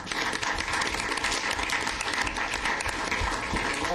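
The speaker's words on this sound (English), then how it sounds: "So I just really owe all of you a round of applause" Applause at a regular council meeting, a dense continuous clatter of many hands clapping together at even loudness throughout.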